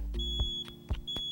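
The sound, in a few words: smoke detector test button beep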